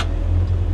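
A 1957 Chevy Bel Air two-door on its first drive gives a steady, loud low engine drone with a pulsing rumble from inside the car, brief and unchanging, with no voices.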